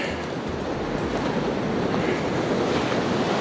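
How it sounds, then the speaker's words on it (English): Waves break and wash continuously at the beach at Inskip Point, Queensland: a dense, steady roar of surf with some wind rush, loud and unbroken, with no voices. "So now we've made it out to the beach."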